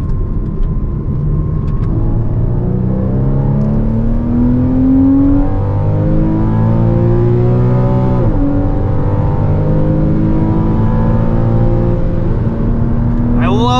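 A 2014 Porsche Cayman base with PDK gearbox driven hard on a race track, heard from inside as a loud engine drone rising through the revs, with gear changes dropping the pitch before it climbs again, steady and close.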